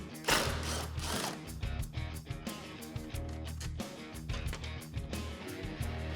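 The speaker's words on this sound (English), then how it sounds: "you're gonna grab a 10mm socket and remove 2 bolts on the inside of the taillight" A 10mm socket ratchet clicks close up while taillight bolts are removed on a 2016-2021 Toyota Tacoma, giving irregular bursts of pawl clicking and metallic rattles.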